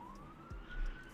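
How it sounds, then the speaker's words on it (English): A police siren wails through a neighbourhood, a faint, distant rising tone held steadily across the brief moment with low background rumble and no talking. "There have been sirens going off all day around the neighbourhood of Phil Burnell"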